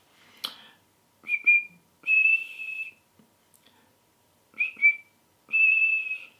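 A person whistles a rough imitation of a bullfinch call, a few short soft whistled notes and held tones separated by pauses, close and fairly quiet with no talking.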